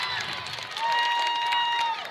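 The Pocola crowd cheers and claps at a boys basketball game against Silo, a sustained, roomy roar of voices with a whistle tone running through it and speech mixed in.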